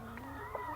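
Free-roaming farm chickens cluck and murmur softly at a middle distance in a quiet outdoor setting, with a couple of brief sharper calls standing out over a low steady background.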